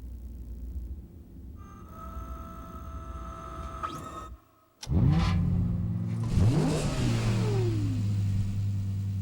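A Lexus car engine revs hard, roaring loud and close with rising and falling sweeps after a brief hush, preceded by a steadier engine hum.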